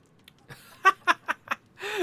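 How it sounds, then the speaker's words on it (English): Chickens being petted in the video game Loot River give a run of short, rhythmic clucks and squawks, close and clear, ending in a longer drawn-out cackle. "I am petting the chickens."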